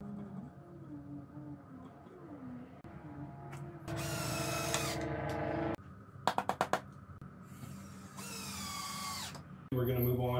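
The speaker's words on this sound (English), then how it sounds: "we're going to be using some exterior wood glue as well as screws to screw the entire base" Power drill driving screws into a wooden garbage can enclosure base, several loud bursts of whirring with short stops, a quick series of sharp clicks between them, over a low hum.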